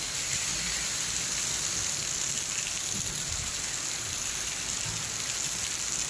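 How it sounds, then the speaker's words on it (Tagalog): Heavy rain pours steadily, a dense, continuous hiss drumming on surfaces with no pauses and no voices. "sobrang lakas ng ulan o"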